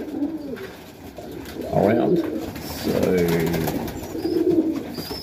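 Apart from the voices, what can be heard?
pigeons cooing in highflyer loft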